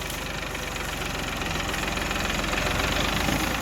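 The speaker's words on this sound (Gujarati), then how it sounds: "આવી રીતે ટ્રેક્ટર નીકળે" A tractor engine chugs steadily and loudly throughout at a sugarcane jaggery-making site, a constant close rhythmic diesel thrum with no pauses.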